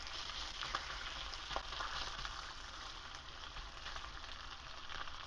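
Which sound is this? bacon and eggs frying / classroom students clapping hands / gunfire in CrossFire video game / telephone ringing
bacon and eggs frying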